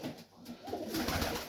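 Pigeons coo softly in a loft during Melbourne heat, a brief low burbling murmur that rises slightly toward the end, with no voices.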